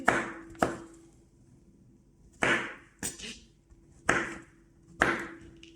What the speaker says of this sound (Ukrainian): Я їх нарізаю, але не дуже дрібно